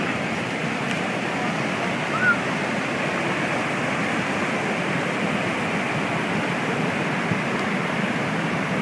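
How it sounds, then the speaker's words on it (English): Floodwater in a raging river that rose overnight in the mountains near Kasese, roaring as a constant, dense rush of water with no breaks, steady and loud throughout. "We'll move in to see the raging river."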